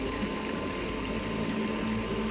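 A pump recirculates water over the grain bed of an Imperial Stout mash during home brewing, giving a steady, continuous hum and wash of liquid without any pause.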